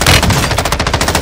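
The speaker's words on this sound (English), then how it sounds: "I heard like gunshots." A rapid burst of automatic gunfire in the video game Call of Duty Warzone 2, loud and close, shots in quick even succession.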